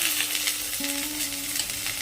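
Cut drumstick pieces added to potatoes frying in oil, a steady sizzle running throughout, close and fairly quiet, with no voices.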